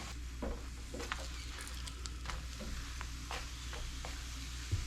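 Food fries gently in a pan over low heat with a soft, continuous sizzle and scattered faint pops and crackles, close by and with no talking.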